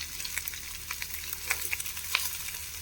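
Chopped vegetables fry in a pan with a moderate sizzle, punctuated by scattered pops and light stirring scrapes, steady and fairly quiet.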